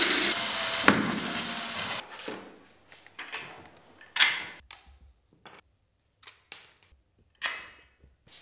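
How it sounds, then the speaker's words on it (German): A drill boring holes into a wall to mount a countertop washbasin, with a loud, sustained whir for about two seconds followed by scattered taps and knocks of tools. "Jetzt mit dem passenden Bohrer die Löcher bohren."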